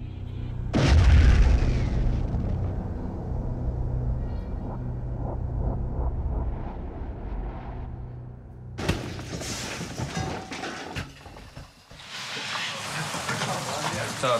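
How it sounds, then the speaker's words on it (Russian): A deep, heavy explosion booms early on as a charge under 10 cm of sand blasts beneath a Typhoon-VDV armored vehicle, followed by a long rumbling decay, then later bursts of crackling debris and noise. "На стальную плиту засыпаем маскировочным слоем 10 сантиметров песка. И взрываем."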